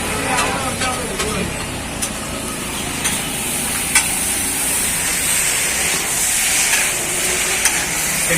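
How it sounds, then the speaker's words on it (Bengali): Parathas frying on a griddle at a food stall, a steady broad sizzling hiss heard from a short distance under busy background noise and occasional voices. "ওদিকে পরোটা ভাজা হচ্ছে"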